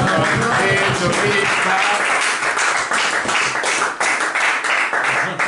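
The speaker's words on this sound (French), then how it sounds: "vous pourrez continuer les applaudissements pendant 10 minutes" A lecture audience bursts into sustained, dense applause at the close of a talk, many hands clapping loudly and continuously throughout.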